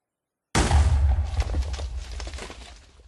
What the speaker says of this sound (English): an explosion with the power of a block of dynamite